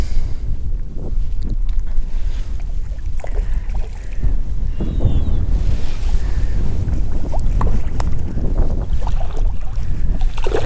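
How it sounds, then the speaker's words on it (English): Strong wind buffeting a small fishing boat on a bayou, heavy low rumbling gusts hitting the microphone continuously, with faint knocks and water sounds underneath and no speech. "listen to the wind. It has really picked up."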